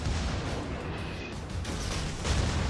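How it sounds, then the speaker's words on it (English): A torpedo striking a ship in the naval combat game World of Warships bursts into a dense, rumbling explosion that fills the whole moment with heavy, continuous roar. "And here comes the torpedo in the face."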